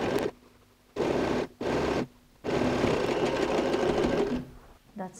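A domestic sewing machine stitches a quilted toiletry bag's lining to its main fabric, running in three loud bursts: two short ones, then a long steady run with a faint clatter at the end.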